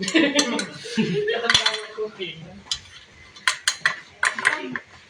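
Swiss roll batter mixed in a bowl during a baking demo, with uneven clinks and scrapes of a utensil against the bowl, loud and close, between bursts of talk.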